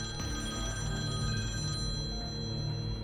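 A telephone rings steadily with a sustained electronic tone over a low, busy background that stays constant throughout.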